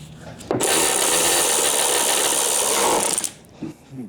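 Power tool driving 10 mm bolts on a Dodge Grand Caravan during a front wiper motor job, a single loud continuous whirring burst of about two and a half seconds, close up, with faint clunks before and after.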